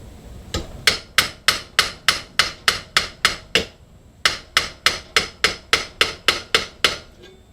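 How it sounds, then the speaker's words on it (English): Hammer tapping on a lawn mower deck spindle as it is tightened, two close bursts of about a dozen sharp, evenly spaced metallic blows separated by a short pause, with no talk. "tighten this while tapping."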